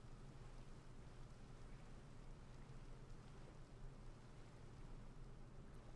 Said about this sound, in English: I wish it wasn't raining right now.